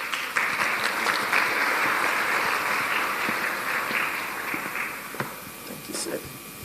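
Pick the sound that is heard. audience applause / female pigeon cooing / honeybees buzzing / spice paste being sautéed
audience applause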